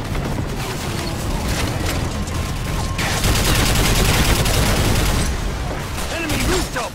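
Dense, sustained gunfire fills a Call of Duty Modern Warfare III firefight, rapid automatic bursts layered with booms and clatter throughout, with battlefield voices shouting orders over the din.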